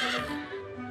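A horse whinnies in a single short, bright neigh that fades quickly, heard fairly near with no talking.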